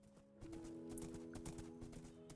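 Horse hooves clip-clopping in the Minecraft GTNH modpack, a steady run of faint, evenly spaced hoof clops over a low background hum.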